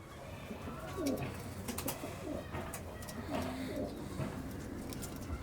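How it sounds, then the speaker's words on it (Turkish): Mardin tumbler pigeons coo in a steady run of soft, low, rolling calls, several birds close by and overlapping against a light background hiss. "Yani Mardin dediğimiz kuş taklacı kuştur."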